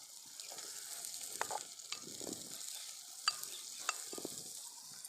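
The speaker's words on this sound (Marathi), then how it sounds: "लसूण शेंगदाणे आणि मिरची आधी कच्चीच कुठली आणि नंतर त्याला तळून घेऊ राहिल्या मस्त परतून घ्यायची आता" Garlic, peanuts and green chillies sauté in a pan, giving a faint, steady sizzle broken by a few soft scraping clicks from stirring.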